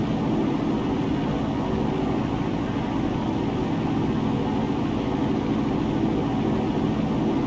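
Light aircraft engine brought up to about 1,700 rpm with the last notch of flaps set during slow flight, a loud steady droning hum that fills the whole stretch with no voices.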